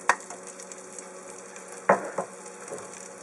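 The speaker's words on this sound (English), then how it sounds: "Just go ahead and give those a stir for a couple of minutes" Garlic and shallots frying in a couple of tablespoons of oil in a soup pot over medium-high heat, a soft continuous sizzle punctuated by a few distinct spoon clanks and scrapes as they are stirred.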